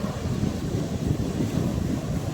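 Sea waves splash and wash around a boat off the coast, heard as a continuous low rumbling surge mixed with wind buffeting the microphone. No one speaks.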